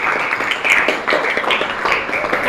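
A classroom of students claps together during a school lesson on open and closed electric circuits, a short, loud burst of dense clapping close by that holds steady throughout.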